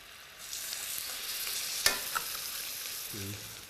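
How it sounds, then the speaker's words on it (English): Pork chops frying in a pan, a soft steady sizzle that swells after the first half second, with one sharp clink and a small tap partway through, and no voices. "now I will cook them in the pan until they're browned nicely on both sides"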